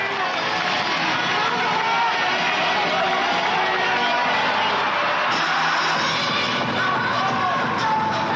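A large crowd at a Pancrase fight between Masakazu Funaki and Bas Rutten roaring and cheering continuously, a dense arena wash of voices and whoops under a commentator's excited narration.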